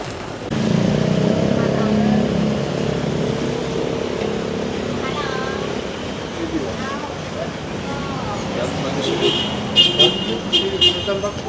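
Street traffic in Pattaya, Thailand, with a bus sounding a short burst of repeated horn toots near the end over a steady rumble of passing engines.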